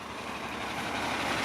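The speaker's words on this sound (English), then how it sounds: "But listen to that Cummins." A Cummins diesel engine on a bus or truck on a Toronto street rumbles steadily and low, fairly distant, growing slightly louder over the brief moment.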